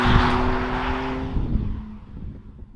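A BMW G87 M2 accelerating, its engine note loud at first and then fading as the car pulls away, with no talk over it.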